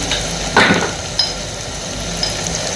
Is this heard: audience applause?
no